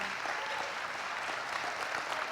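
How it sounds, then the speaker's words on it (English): A graduation audience gives a sustained round of applause, dense, even clapping from many hands heard at a moderate distance without talk. "can we do that one more time? Just extra encouragement"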